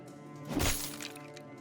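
A single shattering weapon strike from the video game Battle Brothers lands as a brief crashing, breaking burst that swells and fades within about a second.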